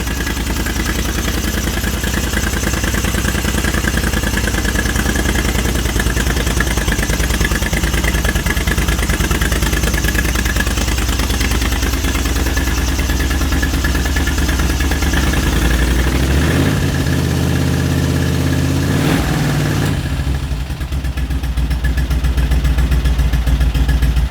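A 1980 Moto Guzzi Le Mans MK2 motorcycle with a little choke applied fires up and settles into a loud, steady, close idle with a deep rumbling throb, briefly dipping and shifting near the end before running on evenly.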